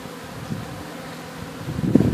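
Honeybees hum faintly and steadily during a hive cut-out in Lake Wales, Florida, the buzzing swelling slightly louder near the end.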